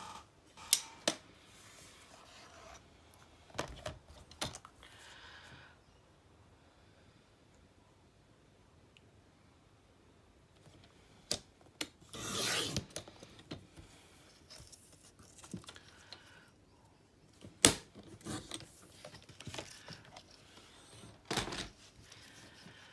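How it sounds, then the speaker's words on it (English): Scissors snip through shimmer paper in a quiet room, a scattered series of short, faint crisp cuts and rustles separated by pauses, with a few sharper clicks near the end. "I'm going to go ahead now and cut my my shimmer paper"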